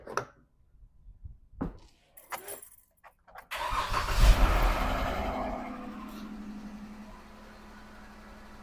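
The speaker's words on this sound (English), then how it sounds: "we're gonna go ahead and try to spin her over one time" A Jeep with a freshly replaced battery: a few quiet clicks and rustles, then the engine cranks briefly and catches, roaring up loudly before settling into a steady idle; no talking.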